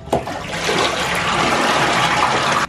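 A full bathtub drains in a home bathroom, a loud, steady rushing gurgle of water that runs for almost three seconds and then cuts off abruptly, with no talking.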